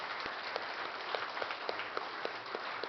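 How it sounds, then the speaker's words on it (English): Thin, scattered applause from a small audience at a charity event, modest and even with a few sharper individual claps standing out over a few seconds. "Give them another round of applause."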